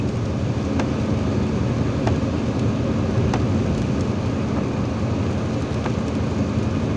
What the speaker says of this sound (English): the noise of the rain, the raindrops hitting the windshield